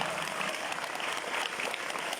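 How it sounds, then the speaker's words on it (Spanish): Audience applause at a live monologue performance, a dense, steady clapping that fills the whole moment without pause and with no voices over it. "Fuertes aplausos nuevamente para nuestra Cruz Blanca Mares"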